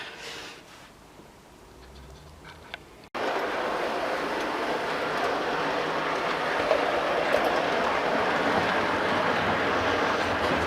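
A model railway train on a garage layout hauling a mail rake. After about three seconds of near quiet, a steady rolling clatter of wheels on track starts abruptly and runs close and continuous to the end.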